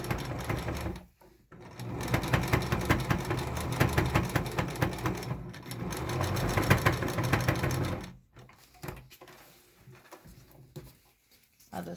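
Sewing machine running a zigzag stitch through thick cotton mask fabric, fast rhythmic mechanical chatter in close bursts, stopping briefly near the start and again toward the end.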